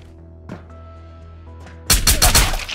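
Gunfire in the video game Ghosts of Tabor: two faint distant shots early on, then a loud close burst of several cracking shots near the end over a low droning ambience.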